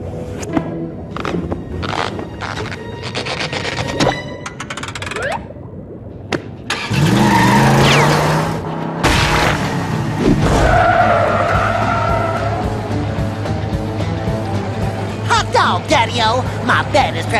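Racing car from a SpongeBob SquarePants video game skids, with a loud squealing slide and engine revving after a burst of clattering effects; a narrator's voice talks over parts of it.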